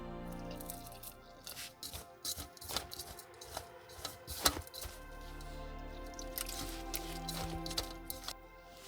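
Fenugreek flour being worked with water into a dough at a solo campsite, with irregular wet squelching and slapping handling sounds, close and moderately loud, and a few sharper knocks in between.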